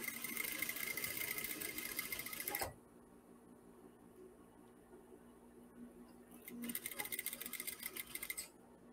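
Sewing machine stitching sheer fabric in two loud, rapid bursts of buzzing, separated by a quiet pause of several seconds.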